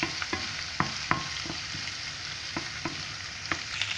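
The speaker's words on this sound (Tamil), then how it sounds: "இஞ்சி பூண்டு கொஞ்சம் வதங்கட்டும்." Ginger and garlic sautéing in a pan make a soft, continuous sizzle close by, broken by repeated sharp scrapes and clicks of a spoon stirring against the pan.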